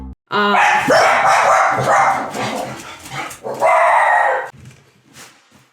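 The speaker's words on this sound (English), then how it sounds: "Guard dog decided to interrupt the video, sorry." A guard dog barks and yips loudly and close, in a series of sharp, overlapping barks with whimpering tones, then trails off into quieter sounds near the end.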